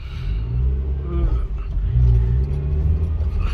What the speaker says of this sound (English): Let's brake hard. ABS kicks in,